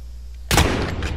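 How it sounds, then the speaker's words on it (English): A single sharp, loud shot from a marksman sniper rifle in a video game, with a brief decaying tail after quiet background. "I got a sniper rifle. It's a"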